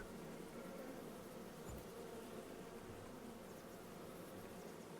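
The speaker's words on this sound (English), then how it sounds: "I did want to make use out of the bees on this playthrough because it's kind of something you overlook" Bees buzz steadily around hives on a farm in Farming Simulator 25, a faint continuous droning hum with no pauses or talk.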